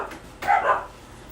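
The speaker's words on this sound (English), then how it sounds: "let them go out and bark at the mailman" Dogs bark outside at a mail carrier: one short, fairly close bark stands out against quiet background, with no talking.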